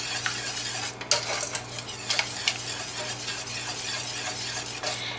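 Whisking cheese into a saucepan of homemade nacho cheese sauce, a steady scraping stir with light metal clinks against the pot and a soft sizzle underneath, close and continuous with no talking.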